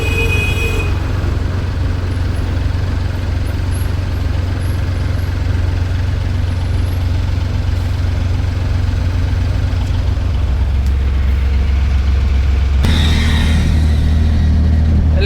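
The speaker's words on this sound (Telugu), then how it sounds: "చేయబట్టి ట్రాఫిక్ జామ్ అయింది. చూడండి" Traffic jam near a busy junction and bus stand in Elkathurthi, trucks and cars idling in a continuous low rumble with engine drone, a brief air-brake hiss and a louder engine surge near the end, close by.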